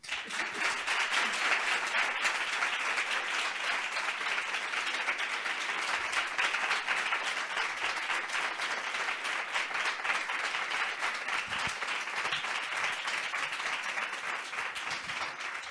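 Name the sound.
audience applause welcoming a guest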